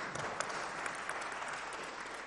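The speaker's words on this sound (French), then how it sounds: "Bravo, ouais, on peut vous applaudir" Conference audience at a round-table session applauds, a fairly faint, even wash of many hands clapping throughout without a break.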